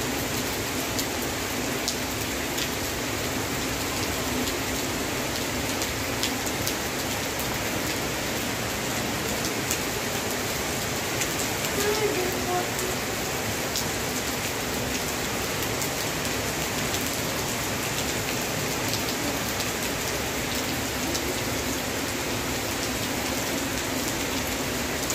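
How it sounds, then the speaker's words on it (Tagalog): Steady afternoon rain falling in Nepal, a dense even hiss of drops on surfaces that holds at a constant level throughout with no pauses and no voices. "Umuulan pa rin dito sa Nepal."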